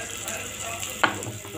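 Onion and tomato base for a Tamil egg gravy fries in a pan with a steady soft sizzle and one sharp clink from a utensil midway, with no talking.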